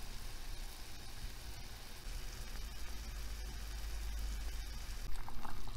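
Kemal Pasha dessert pieces bubble and simmer in a pot of syrup, a continuous low, rumbling boil with a fairly even density that grows slightly louder toward the end, with no voices.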